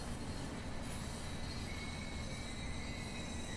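A freight train rolls past in a railway simulator game, with a steady rumble of wheels on track and a faint high squeal above it, even and continuous.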